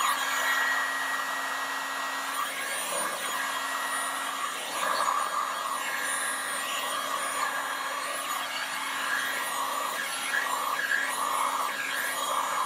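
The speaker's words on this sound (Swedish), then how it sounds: "det man gör nu med värmepistolen det är att man krymper filmen" A heat gun blows steadily while shrinking Biltema solar window film on a difficult car rear window, a continuous hissing, whirring roar with faint rubbing textures, close and unbroken for the whole stretch.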